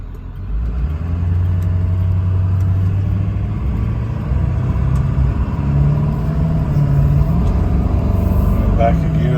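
Ford F350 4x4 crew cab turbo diesel pickup with a veterinarian box accelerating, a steady loud engine rumble with low drone rising through the gears, heard from inside the cab.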